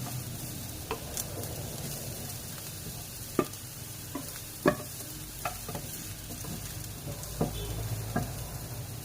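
Garlic fries and is stirred in a pan, giving a steady soft sizzle under scattered scraping clicks of the utensil, close and fairly quiet, with no voices.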